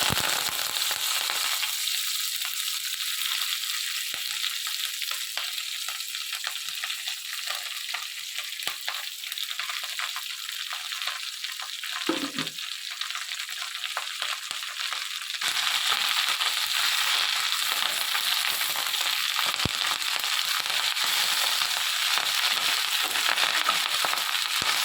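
Curry leaves crackling and sizzling in a little oil in a pan, a steady close frying hiss that runs throughout and grows slightly louder partway through.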